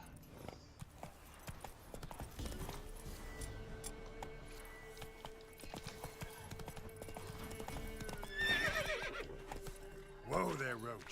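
Roach, the horse in The Witcher 3, whinnies and snorts near the end while hooves clop along throughout under a long held tone and game sounds, with talk mixed in.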